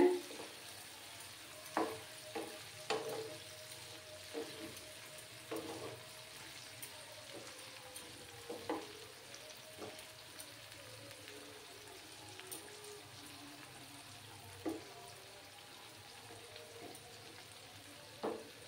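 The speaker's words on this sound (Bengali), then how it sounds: "এভাবে আমি কিছুক্ষণ সময় নিয়ে 3-4 মিনিটের মতো সময় নিয়ে ওটাকে লো আঁচে ফ্রাই করে নেব" Dried shrimp fry gently over low heat, giving a faint, steady sizzle broken by occasional soft scrapes and clinks of a spatula stirring the pan.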